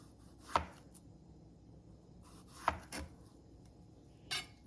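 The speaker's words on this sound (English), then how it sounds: "There are different shapes that you can slice your plantains in." A knife cuts plantains into thin rounds on a board, three sharp separate chops spaced a couple of seconds apart, close and clear against a quiet room with no talking.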